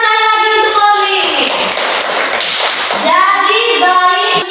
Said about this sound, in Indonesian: Tepuk tangan sekali lagi untuk Colin